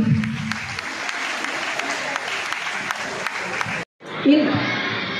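Audience applause at a government awareness programme during a prize presentation, a dense sustained wash of clapping that cuts off briefly near the end before a fresh burst resumes.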